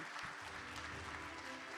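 An audience at a journalism awards ceremony applauds the first prize winners, a faint, even wash of many hands clapping, heard from a distance and continuing steadily.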